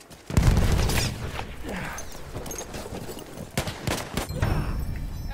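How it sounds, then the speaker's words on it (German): A grenade blast and gunfire in Battlefield 1: a heavy boom opens, followed by dense, rolling bursts of shots and sharp cracks that continue for several seconds, loud and close. "Granate, Deckung!"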